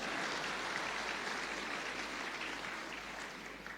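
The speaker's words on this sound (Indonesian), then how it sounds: "tepuk tangan, betul tepuk tangan" Steady, even applause from a gathered audience at a church-style gathering, a continuous wash of many hands heard from some distance and fading slightly toward the end.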